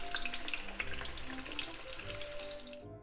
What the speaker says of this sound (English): make sure you keep turning around so that it'll be fried evenly